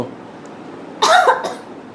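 A child coughs in one short burst of a few harsh coughs while eating spicy noodles during a noodle-eating challenge, close to the mic in a quiet room.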